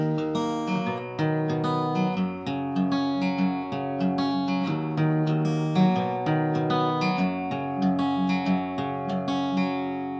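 Strummed acoustic guitar playing a song with a steady, repeating chord pattern and a clear rhythmic pulse, loud and close, with no voices.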